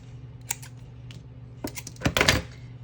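Scissors snip through ribbon wrapped three times around a stamped paper craft piece, giving a few crisp, close cuts clustered near the end with light rustling between them.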